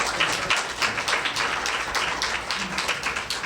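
A crowd applauds steadily to welcome President Zack Kline, a dense, even wash of many hands clapping without a break for a few seconds, with no voice standing out above it.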